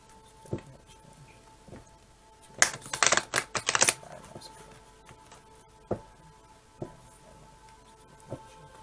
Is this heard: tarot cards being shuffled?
yes